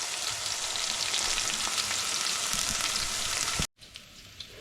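Onions frying in sesame oil, a bright steady sizzle close up that cuts out abruptly near the end, leaving a much quieter tail with faint clicks.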